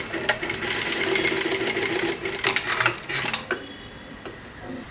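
A sewing machine reverses to backstitch and lock a seam on a four-dart blouse, making a close, steady rapid stitching run that stops with a few short clicks near the end. No voices are heard.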